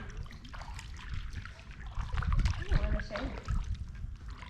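Kayak paddle strokes dip and swirl through calm lake water at Clear Creek Lake, soft splashes and trickles rising and falling in an irregular rhythm, close by, with talk running over them.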